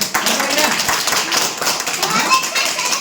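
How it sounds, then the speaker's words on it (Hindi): Children in a classroom clap loudly together for a computer being switched on, a brisk, rough burst of many small hands close by, with some talking mixed in. "तो एक जोरदार तालियां"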